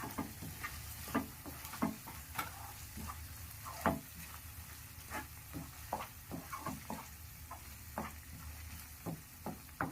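Blended mushroom gravy paste frying in a pan, a steady soft sizzle with scattered spits and pops and occasional stirring scrapes, close up and fairly quiet, with no voices.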